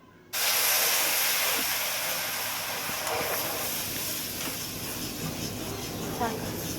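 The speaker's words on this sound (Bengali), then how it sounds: "এরপর দুধ ঢালার পালা।" Milk poured onto hot melted sugar in a pan bursts into a loud, sudden hiss that stays strong and slowly eases over several seconds.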